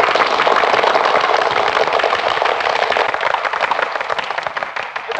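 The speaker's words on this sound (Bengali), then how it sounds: "এবার হাততালি।" Dense, steady clapping from a gathered group in an old Bengali film scene, many hands striking at once and continuing evenly for several seconds before easing slightly at the end.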